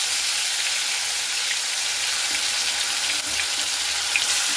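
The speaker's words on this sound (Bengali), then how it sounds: "এই মাছটাকে হালকা করে এইভাবে ভেজে নিচ্ছি।" Marinated fish lightly frying in oil on a high gas flame, giving a loud, continuous sizzle and crackle with occasional small pops.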